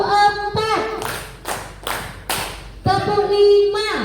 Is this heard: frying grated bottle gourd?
no